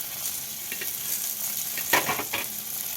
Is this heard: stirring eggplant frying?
yes